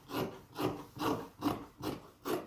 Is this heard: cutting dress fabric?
yes